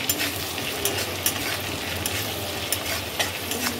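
Turmeric powder sizzles in hot mustard oil with crushed garlic and green chilli, a dense close hiss of frying broken by the scrape of stirring.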